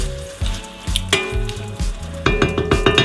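Pork loin browns in a pot with bay leaf and pepper, a loud sizzle broken by repeated clinks and knocks of a utensil against the pot, with the frying swelling louder near the end.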